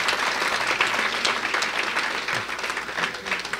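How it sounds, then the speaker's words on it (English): An audience at a family night event for an aviation institute gives a strong, continuous round of applause for Geeta, dense clapping filling the room without a break. "you probably should give Geeta a little stronger round of applause"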